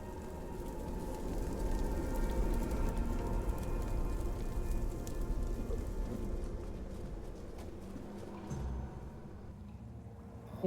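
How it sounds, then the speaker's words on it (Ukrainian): Rain begins falling in the fantasy video game Tainted Grail: The Fall of Avalon, a steady broadband hiss that holds evenly and then thins out near the end. "О, дощ пішов, ну нарешті."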